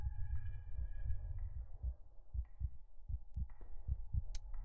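Slow, muffled heartbeat thuds in the horror video game Lair of Torment, steady paired beats over a faint hum, fairly quiet with no speech.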